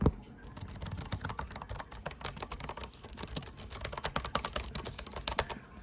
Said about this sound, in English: It's a beautiful keyboard. It sounds great.